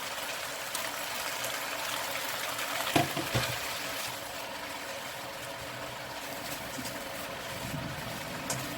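Chinese kale, canned fish and holy basil leaves stir-fry in a pan, giving a soft, steady sizzling hiss throughout with a couple of brief utensil scrapes near the middle, quiet and close with no voices.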